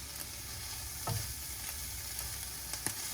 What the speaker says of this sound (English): your shrimp should be cooking in the lemon